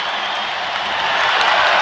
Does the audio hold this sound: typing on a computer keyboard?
no